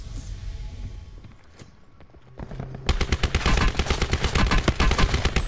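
Rapid automatic gunfire from Call of Duty Black Ops 4 Blackout, starting quieter and sporadic before a dense, loud burst of repeated shots fills the second half.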